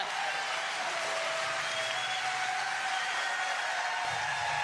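A crowd applauds at the end of a men's singles pickleball championship match at the Florida Open, a steady, even wash of clapping that holds throughout without breaks.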